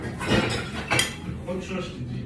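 Dishes and cutlery clink and rattle during washing up at a home sink, a few sharp knocks standing out over running, clattering handling noise, with a voice speaking over it at times.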